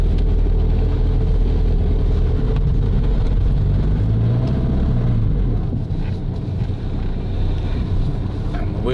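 A car's tires spin while it tries to climb a hill at a camp spot, a loud steady engine roar with rumbling wheel noise and heavy wind buffeting across the microphone throughout.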